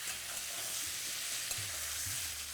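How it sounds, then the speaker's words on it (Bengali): Whole pointed gourds (potol) frying on high flame in a pan, a steady dense sizzle with a stir or scrape or two, close and alone. "পটলটা ভাজার সময় ফ্লেমটা কিন্তু আপনারা একদম হাই রাখবেন, যাতে উপর থেকে কালারটা তাড়াতাড়ি চলে আসে।"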